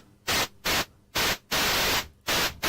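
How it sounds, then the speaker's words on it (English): Noise bursts from a Feedback Modules Static synth module with a lengthened attack: five loud hiss swells rising and cutting off in an uneven rhythm, separated by brief near-silent gaps, with no voices. "If we now make the attack longer, it's just some nice noise bursts"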